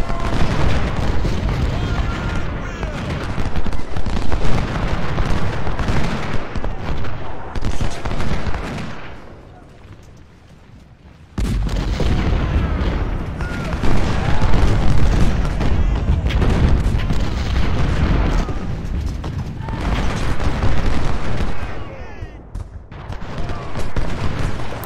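Cannon and artillery fire from a Civil War battle at First Bull Run in Ultimate General: Civil War, a dense continuous barrage of booms and rattling volleys that dips briefly into a quieter lull before the heavy firing resumes.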